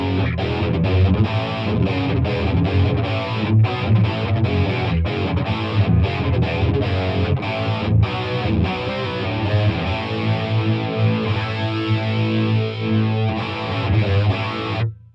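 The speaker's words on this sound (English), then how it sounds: "So if we were to use a chorus with, say, distortion, you'd end up with quite an 80s rock" Electric guitar played through chorus and distortion effects gives a thick, shimmering, overdriven 80s rock tone, with sustained chords and riffs ringing loudly and continuously, alone with no voices.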